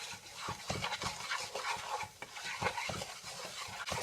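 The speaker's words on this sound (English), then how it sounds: "just stir that flour around in that pan" A utensil stirs and scrapes flour around in a frying pan with oil, a steady, busy rasping with quick repeated strokes, close and continuous, with no talking.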